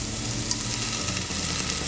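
Steady, bright sizzling and crackling of vinegar hitting a hot pan, continuous and close with no voices.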